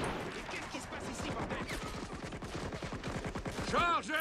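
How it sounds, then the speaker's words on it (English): An MG42 machine gun fires in the WWII strategy game Men of War: Assault Squad 2. Rapid, evenly spaced bursts of shots rattle at moderate loudness, and a brief whistling tone rises near the end. "Got that MG42 action."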